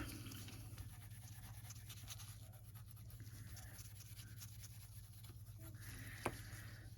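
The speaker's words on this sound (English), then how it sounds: "I'm going to take off the tacky layer. I'm going to give it a really good scrub." A brush scrubs cured gel polish on fingernails to lift the tacky layer, giving a quiet, steady rasping over a constant low hum, with one sharp tap near the end.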